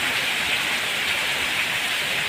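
Heavy monsoon rain pours steadily over a flooded mung bean field, a dense, even hiss close at hand with no pauses and no voices.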